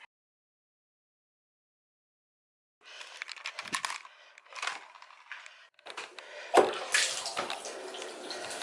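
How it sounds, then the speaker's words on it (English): Shower water running in a home bathroom, starting after about three seconds of silence and continuing as a close, uneven spray and splash with louder bursts, no talking. "Shower time"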